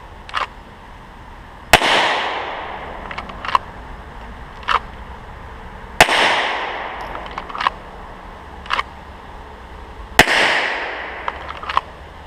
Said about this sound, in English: I'm trying to work on accuracy, picking up the front sight as soon as I can, and then pressing my shot.